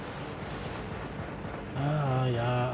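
Cannon fire in the naval combat video game Dreadnought: a dense, continuous rumble of distant shots and booms, then a louder blast with a humming tonal swell in the last second.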